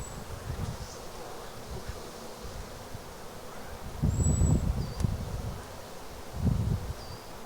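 Swarm of honey bees being brushed into a box, a steady dense buzzing hum throughout with louder rustling brush strokes partway through, close and continuous outdoors.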